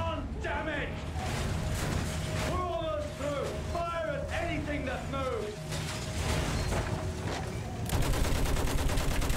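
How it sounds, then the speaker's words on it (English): Battlefield 1 WWI battle gameplay with heavy continuous gunfire and rapid bursts, explosions and engine rumble throughout, with a voice talking over the combat. "I'm firing at anything that moves."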